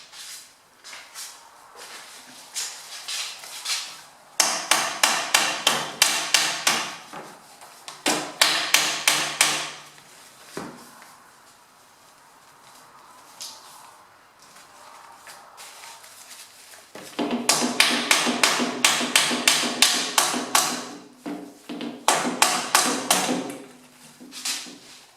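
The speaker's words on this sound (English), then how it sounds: "Just wrap a bit of paper towel over the head of the hammer and then you can just gently hammer it in" Hammer head wrapped in paper towel tapping the corners of a Lidl fly insect screen frame for a kitchen window, coming in fast bursts of close, sharp taps separated by quieter handling pauses.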